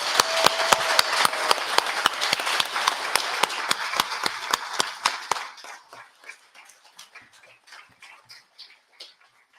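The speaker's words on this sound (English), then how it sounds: "So can we give all the nominees a clap" An audience at a volunteer awards ceremony claps for the nominees: brisk, dense applause at first, thinning after about five seconds to a few scattered, separate claps that fade out.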